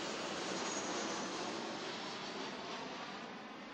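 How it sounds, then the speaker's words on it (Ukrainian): A plane flies low over homes near Heathrow Airport, its broad jet roar loud and steady throughout, fading slightly toward the end, with no voices. "Що 90 секунд гул літака розриває небо."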